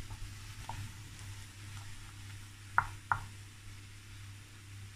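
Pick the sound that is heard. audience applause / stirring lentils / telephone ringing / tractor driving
stirring lentils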